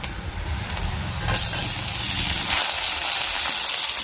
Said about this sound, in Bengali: পেঁয়াজটা হালকা একটু ভাজা ভাজা হয়েছে, মানে নরম হয়ে এসছে, এখন টমেটোটা দিয়ে দিচ্ছি।